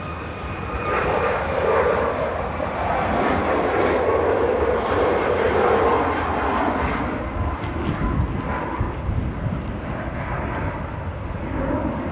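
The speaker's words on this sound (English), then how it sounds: "This is Eurowings flight 2470 from Stuttgart, an A319" A Eurowings Airbus A319 airliner from Stuttgart touches down at Manchester Airport, its engines giving a loud, swelling roar that peaks midway and then tapers into a lower rumble as it rolls out.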